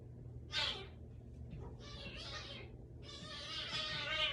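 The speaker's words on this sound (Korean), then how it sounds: "고양이들끼리 싸워가지고 제가 좀 중재를 하고 왔습니다" Cats yowling and growling at each other in a tense fight, rising cries with short pauses, fairly close.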